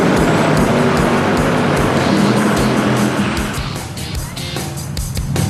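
Camaro drag car launches hard off the line, a loud roaring high-rpm engine with tire noise, close and sustained before easing slightly as it pulls away.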